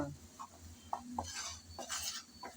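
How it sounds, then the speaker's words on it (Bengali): Spices being stirred and roasted with bottle gourd peel paste in a pan, with a quiet sizzle under soft, intermittent spatula scrapes and taps on the cookware. "আমি নেড়ে চেড়ে মশলা কষিয়ে নিয়েছি"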